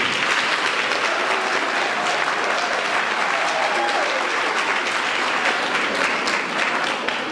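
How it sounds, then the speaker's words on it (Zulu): A crowd applauding at a Zulu-language performance, dense continuous clapping at steady strength with no break, filling the whole stretch. "Ngicela nikushayele ihlombe ngathi sengiqedile."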